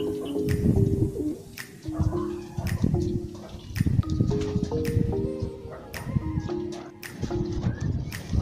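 Soft, low cooing from racing pigeons repeats steadily under a busy background of rustling and occasional sharp clatters, fairly close.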